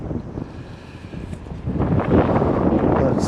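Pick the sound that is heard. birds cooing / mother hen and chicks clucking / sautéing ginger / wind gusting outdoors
wind gusting outdoors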